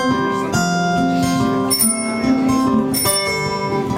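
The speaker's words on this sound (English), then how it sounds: "Bicycle bell. Yes, ring them." A bicycle bell rings several times in bright, metallic dings, each ring lingering briefly with a clear, high tone.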